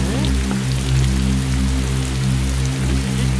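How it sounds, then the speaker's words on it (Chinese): Heavy rain pours down in a steady, dense patter on outdoor surfaces, loud and close, with a low constant rumble beneath and no voices. "遇上这么大雨，真扫兴啊！"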